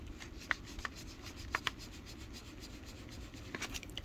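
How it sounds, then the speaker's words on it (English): Writing is being erased from a board during an organic chemistry lesson, with a few short, quiet rubbing swipes over a soft background hiss. "So we can erase here."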